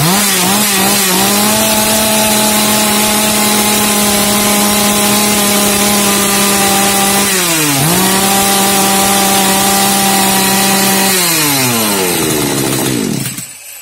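A Tatra Garden MS-180 chainsaw, just fitted with a new oil pump, runs loudly and steadily close by. Its engine drone holds a constant pitch, dips briefly twice and winds down at the end.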